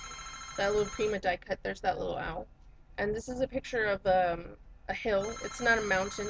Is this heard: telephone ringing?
yes